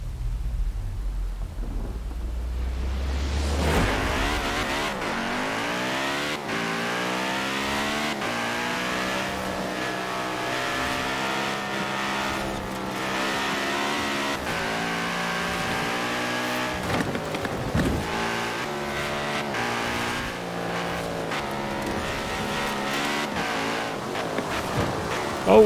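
An Audi with a V10 engine in Forza Horizon 4 roars loudly for a long stretch, its revs climbing and falling in repeated sweeps through gear changes. Rumbling thunder and rain sit beneath it at the start.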